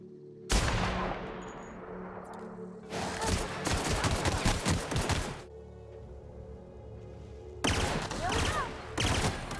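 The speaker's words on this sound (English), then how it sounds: "The gunshots in particular sound incredibly satisfying." Gunfire in The Outer Worlds: several loud bursts of rapid shots, one after a sharp opening blast, then a longer volley and a final burst, separated by quieter low ambience.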